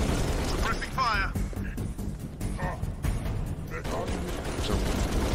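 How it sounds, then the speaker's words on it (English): Suppressing gunfire in Halo Reach: steady bursts of shots and popping blasts that run throughout, mixed with battle noise and voices talking over the action. "Suppressing fire."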